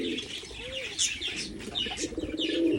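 Pigeons coo softly in a village setting, with low rolling coos joined by brighter chirps and a brief flutter of wings, fairly close and with no one speaking.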